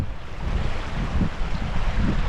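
Meltwater running down a steep, mushy beck in Hells Gill, a steady broadband rush close to the microphone with some wind buffeting throughout, no talking.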